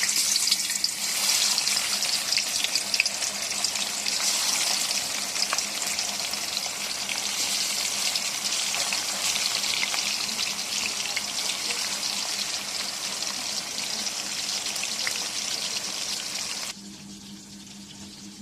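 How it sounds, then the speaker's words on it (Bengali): Pangas fish sizzles and crackles steadily in hot oil, a close, continuous frying hiss that drops abruptly to a quieter hum near the end. "বন্ধুরা চুলায় মাছটা ভাজা হচ্ছে"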